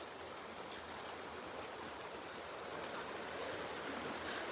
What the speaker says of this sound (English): The water is melting. Still, this stream will run all year.